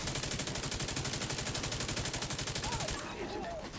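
Sustained automatic video game gunfire rattles in a fast, steady, loud stream for about three seconds, then cuts off, leaving faint game sounds and a brief voice.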